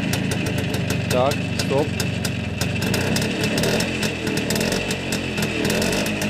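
A 1970 Minsk M105 motorcycle engine sputters and runs roughly in rapid, uneven firing pulses while being coaxed to start, with people talking close by over the engine.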